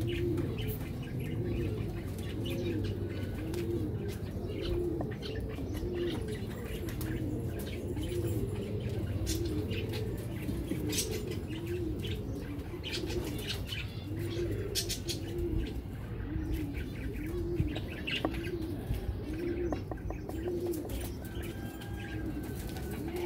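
Pigeons coo steadily in a low, rolling chorus, with wings flapping now and then and a faint bustle of other birds throughout.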